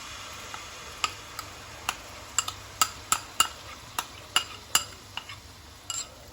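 A spoon clicks and taps sharply and repeatedly against a pan as a cauliflower, carrot and turnip pickle is mixed with jaggery and vinegar, quick uneven strokes close up with no talking.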